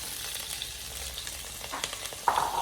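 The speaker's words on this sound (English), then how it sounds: "Now my vegetables are cooked, so the vegetables are going in." Cooked carrots and cauliflower hit a stir-fry pan with a bright, steady sizzle, punctuated by light crackles and a louder hiss near the end, close up with no speech.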